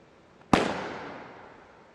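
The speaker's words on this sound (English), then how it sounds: "That is the first shot that I've heard" One loud rifle shot from a sniper during a UAE SWAT challenge event, a sudden crack with a lingering echo that slowly dies away, heard alone with no voices.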